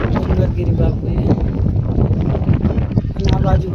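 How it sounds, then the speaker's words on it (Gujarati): Strong wind at a hilltop temple during the Chaitri Poonam fair at Vachchraj Bet buffets the microphone in rough, continuous rumbling gusts while a person talks over it nearby. "અહીંયા વાયરો પણ એટલો આવી રહ્યો છે"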